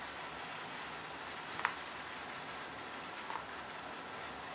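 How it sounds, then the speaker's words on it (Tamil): Water with turmeric coming to a rolling boil in a cooking pot for a yam fry, a steady soft hiss with faint bubbling and two brief light clinks, no voices. "நல்ல கொதி வந்துருச்சு"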